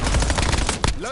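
Rapid automatic gunfire from the video game Black Ops 7 Warzone, a loud continuous burst of close shots lasting about a second, with no talk over it.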